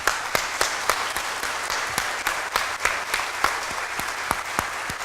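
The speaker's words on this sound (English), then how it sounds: "If we could give them a round of applause" Audience applause at a restorative justice gathering of high school students, steady dense clapping from a crowd with a few sharper claps standing out, continuous throughout.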